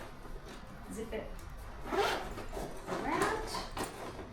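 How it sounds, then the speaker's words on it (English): Zipper on a travel bag is drawn several times in quick rasping strokes, close and fairly loud, amid handling rustle. "Zip it in,"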